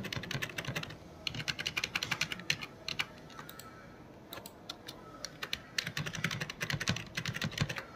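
Keys clatter on a computer keyboard in close, quick bursts of typing separated by short pauses, with no one speaking.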